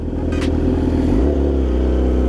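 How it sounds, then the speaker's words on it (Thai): A motorcycle with a loud exhaust roars, with a brief crack and a quick drop in pitch as it quickshifts, then keeps rumbling. "แต่ท่อนี่แบบว่าเสียงกระหึ่มมากเลยนะ เดี๋ยวควิกชิปให้ดู"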